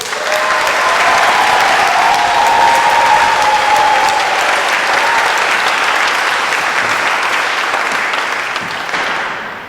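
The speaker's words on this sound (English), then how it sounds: "Can we get a round of applause, please?" Loud, sustained audience applause at a memorial trust tribute event, dense clapping filling nearly ten seconds and tapering slightly at the end, with a faint sung or whistled tone drifting through the middle.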